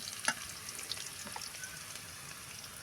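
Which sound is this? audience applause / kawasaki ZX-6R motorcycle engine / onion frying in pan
onion frying in pan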